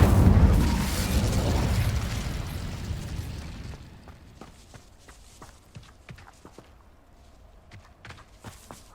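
Incendio fire spell cast in Hogwarts Legacy, a loud roaring fiery burst that fades over a few seconds into faint scattered crackles and clicks.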